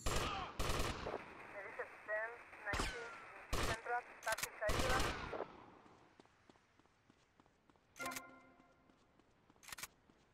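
Gunfire in GTA Vice City Definitive Edition: loud, sharp single shots in irregular bursts, with game music and voices in between and a couple of isolated shots near the end.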